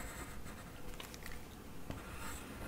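A pencil writes on paper in a soft, continuous scratching that comes in short strokes, quiet and close, with no voices.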